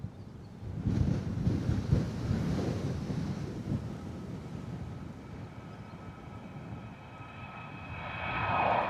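An Airbus A320neo jet takes off at a blustery Bristol Airport. Its engine roar rumbles at a distance under gusting wind buffeting the microphone, then swells again near the end.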